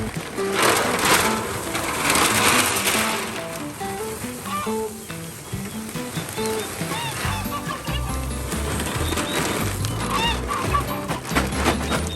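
Several geese honking repeatedly nearby, overlapping calls amid turkey noise in a busy barn-like setting.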